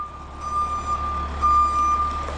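A lime truck reversing on a farm gives off a steady series of high, piercing back-up beeps over a low diesel idle, close and continuous.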